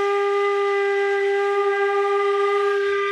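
One long, steady flute tone, a G, held evenly for about three seconds, clear and close with a slight breathy edge.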